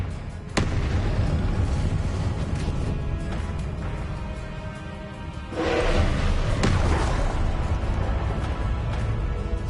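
Confringo blast spells exploding in the Hogwarts Legacy video game, several sharp blasts and heavy booms over a constant battle roar, one loud burst near the start and a broader surge midway.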